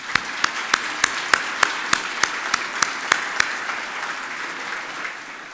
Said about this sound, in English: One more applaud, please.